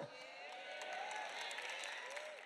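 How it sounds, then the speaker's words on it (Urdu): Applause and crowd noise from a congregation at a church sermon, a dense continuous wash of clapping with some voices mixed in, steady and fairly faint throughout. "تالیوں کی آواز ان کی ہے جو دائیں کی دیتے ہیں"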